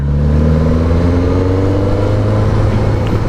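A Suzuki GSX-S1000 naked sport motorcycle running steadily while ridden through corners, its engine a smooth, continuous mid-pitched hum with a rising tone, loud and close throughout with no talking.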